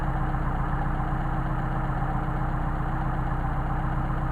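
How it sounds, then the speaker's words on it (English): Mercedes 190SL engine idling during Solex carburetor adjustment, a steady close, loud mechanical drone with an even low rumble throughout the short stretch, the revs dipping and recovering only subtly. "You hear the RPM dropping off, coming back out"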